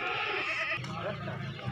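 A goat bleats close by in a long wavering call at a livestock sale, followed by a lower sound as people talk.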